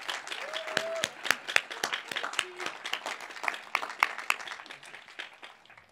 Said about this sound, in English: Let's all give Steve a round of well-deserved applause